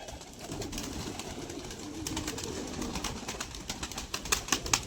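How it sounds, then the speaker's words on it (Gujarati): Pigeons being driven out of a loft give soft, steady cooing mixed with a rustling flutter of wings. The flapping bursts grow louder and more frequent toward the end, and no talk is heard. "જોઈ લો, બધા કબૂતર કાઢી નાખ્યા"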